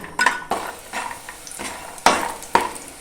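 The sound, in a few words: lentil dumplings (bori) frying in oil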